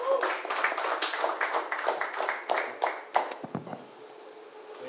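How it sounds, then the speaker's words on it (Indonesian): An audience at a public discussion gives a brief round of applause for a speaker, dense clapping that thins after about three seconds to a few scattered claps and then quiets, with a faint voice mixed in. "tepuk tangan buat Bang Rizal"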